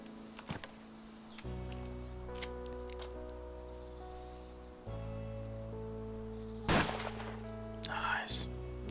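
Rifle shots in DayZ Standalone, a powerful single-shot weapon: a few sharp, loud cracks stand out, the strongest near the end, over a steady droning in-game background with people talking.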